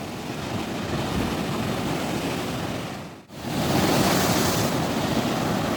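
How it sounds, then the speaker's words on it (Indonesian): Ocean waves roar steadily onto the beach at Pantai Mbuluk at sunset, a loud continuous wash with wind noise, briefly dipping midway before swelling back, with no voices. "Ombaknya makin sore makin kencang. Bergemuruh suaranya."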